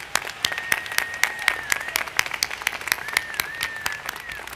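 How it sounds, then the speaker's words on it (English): Commencement crowd applauding faculty and staff, a dense run of claps with sharp individual hand strikes, loud and close, over a sustained tone, without talk. "Please join me in giving our faculty and staff a hearty round of applause for supporting you and optimizing your success."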